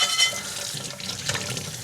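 Hot water runs from a kitchen tap onto a cast iron pan, a short steady splashing rush with brief louder spatters and no talking.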